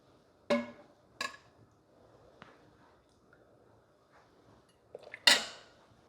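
A spoon stirs chicken orzo soup with lemon and dry wine in an Instant Pot insert, giving a few sharp, spaced clinks and scrapes against the pot, with quiet gaps between them.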